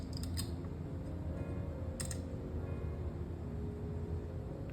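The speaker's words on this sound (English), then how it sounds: "Then you're gonna cut your clay just like this" A blade slicing through a ball of white polymer clay, giving a couple of faint, short crisp snips near the start and again around the middle against a quiet room.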